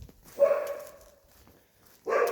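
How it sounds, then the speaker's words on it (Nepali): A dog barks loudly and close by: one sustained bark, then a quieter trailing tail, a pause, and a second bark starting near the end. "खतरा भुक्ने आमा।"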